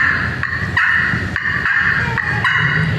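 A pan-style slate game call is scraped to mimic a woodpecker, producing a run of sharp squeaky chirps repeated in quick rhythm, loud and close with no talk over it.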